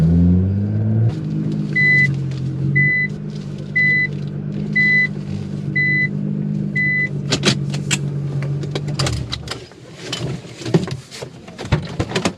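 A Nissan GT-R at close to 200 mph gives a steady, loud low engine drone inside the cabin with repeated short electronic beeps, then the tone drops away into rumbling and clatter.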